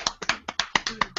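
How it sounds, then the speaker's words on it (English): A small group of people claps loosely for about a second, the claps ragged and slightly out of step, close by and fairly loud with no talking over them. "Round of applause!"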